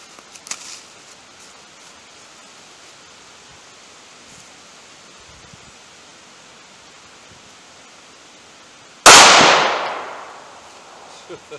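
A single loud, sharp gunshot of a .45 ACP full metal jacket round fired into a wooden 2x4 cracks out late, after a long stretch of quiet hissy outdoor ambience, and its roar trails off over about a second.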